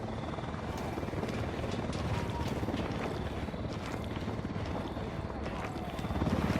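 Helicopter in the video game Ghost Recon Wildlands, a steady whirring rotor drone under wind noise that grows slightly louder toward the end, with no clear talk.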